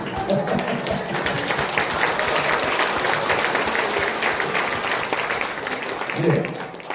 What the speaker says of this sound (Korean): 박수 치는 거 돈 안 듭니다.